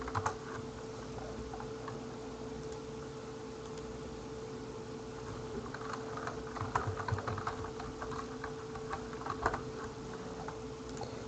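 Keyboard typing on a computer while renaming files, a quiet patter of key clicks that picks up in the second half, with a low steady hum underneath.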